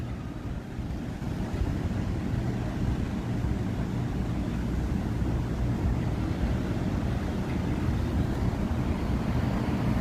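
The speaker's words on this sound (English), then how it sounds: "I know it has been a little windy." Steady, rumbling wind buffeting a microphone in Waikiki, Hawaii, a dense low roar that continues without a break from start to finish.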